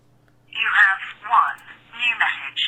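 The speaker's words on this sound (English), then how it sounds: "Nancy, is the phone ringing? Is it ringing, Nancy?" Telephone ringing nearby in several clear, warbling electronic bursts with short gaps between them, loud against a near-silent background.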